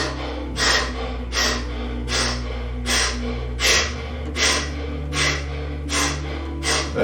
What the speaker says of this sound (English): just breathe in